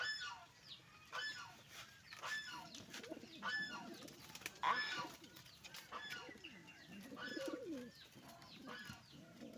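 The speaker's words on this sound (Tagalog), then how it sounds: "Ito po yung mga kalapati ko." Two pet blue bar pigeons, sibling birds, cooing softly nearby in repeated low throaty phrases, with faint rustling and a brief flutter in a quiet room.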